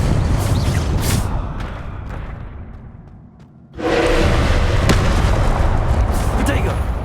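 Confringo fire spell blasts in the Hogwarts Legacy video game, a loud sustained roaring burst that fades, then a second heavy blast swells back in with crackling, rumbling debris.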